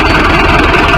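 A Mahindra 605 tractor engine idles with a steady, loud, low diesel rumble, heard close and alone.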